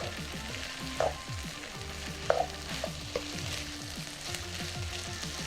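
Vegan kimchi fried rice toasting in sesame oil in a pan, with a steady close sizzle and repeated scraping strokes of a spatula, plus a few light knocks against the pan.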